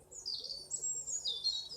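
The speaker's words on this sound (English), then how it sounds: "Thank you for this beautiful morning and the bird song." Morning birdsong, with high chirps and trills running continuously, soft and somewhat distant, with no one talking.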